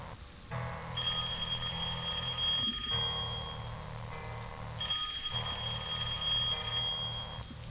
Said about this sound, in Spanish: Cuando sonó el teléfono